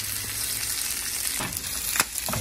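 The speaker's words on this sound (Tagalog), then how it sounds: "Halu-haluin, iprito-prito, hanggang sa maging okay ang karne." Boiled pork pieces fry in oil for sweet pork adobo, giving a continuous close sizzle with a few sharper crackles and stirring scrapes.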